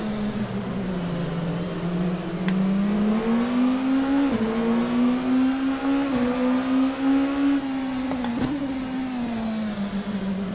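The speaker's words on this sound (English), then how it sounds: "One of the biggest differences for me here with the LMP2 car is the sound quality." Simulated LMP2 prototype race car engine from a Le Mans Ultimate racing game mod drones steadily, its pitch rising and dipping slightly through gear changes, heard close and continuous with no voices.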